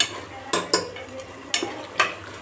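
A spoon stirs spiced tomato and rice mixture in a hot pan, giving four or five short scraping strokes over a soft sizzle, close and fairly loud with brief quiet gaps between strokes.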